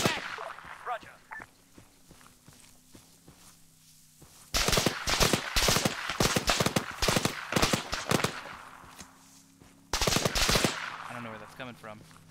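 Gunfire from the military shooter ARMA 3, during an Antistasi mission: dense bursts of automatic fire erupt after a quieter stretch, loud and rapid with brief gaps, then resume near the end, with voices over the action.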